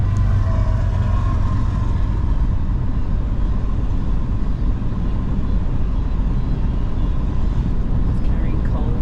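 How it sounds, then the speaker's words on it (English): A long coal-carrying freight train rumbles past on the Great Plains in a steady, heavy roar, heard from a car driving on a nearby road, loud and continuous throughout. "We pass our first train for the day."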